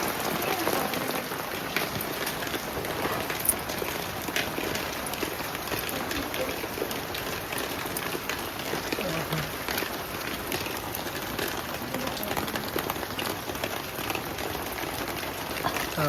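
Steady rain falling outdoors, a dense even patter on surfaces that continues unbroken throughout at a fairly close, moderate level.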